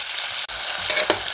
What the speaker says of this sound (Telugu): ఇలా పోపు వేగిపోయిన తర్వాత ముందుగా కట్ చేసి పెట్టుకున్న ఉల్లిపాయలు,